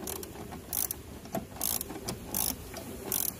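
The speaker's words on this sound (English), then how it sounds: "Once we're in, we're just going to take this bolt right out." Ratcheting wrench clicking as a bolt is removed during an ECU install on a 2009-2014 Hyundai Genesis sedan, quiet repeated bursts of rapid clicks in short strokes, close up with no talk.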